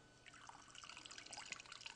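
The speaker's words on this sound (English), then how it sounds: "pour your martini" Vodka martini poured from a chilled shaker into a glass: a close, continuous wet trickle and splash with small drips, fairly quiet and steady for about two seconds, no talking.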